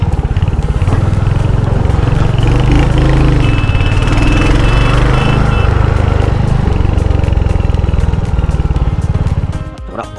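A Royal Enfield Hunter 350 motorcycle from 2022 runs on its stock exhaust, a steady, loud, close engine thrum that holds for about ten seconds and then cuts off.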